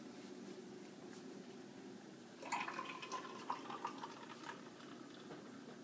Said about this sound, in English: now I will pour even amounts of Red Bull into each container of milk